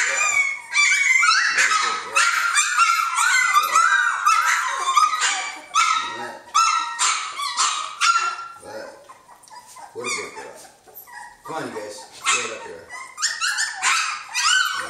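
A litter of three-week-old Swedish Elkhound puppies yelps, yips and barks in a loud, continuous chorus close by, with whimpers and short gaps in between and occasional human voices.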